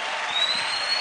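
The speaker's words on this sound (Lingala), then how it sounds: "bobeta maboko na longa place wana" A church congregation applauds during a pastor's sermon, a brief dense wash of clapping from many hands filling the room.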